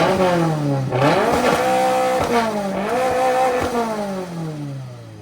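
A Toyota GR86 drift car's engine revs up and down several times, loud and close, in rising and falling sweeps that end in a long falling rev.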